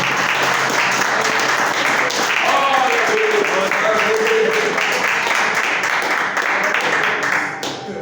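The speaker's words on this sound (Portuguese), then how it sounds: "Aplauda ao Senhor por essa palavra de hoje" A church congregation applauds the Lord at a teaching service, dense sustained clapping from many hands that stays loud and even before tapering off at the end, with voices mixed in.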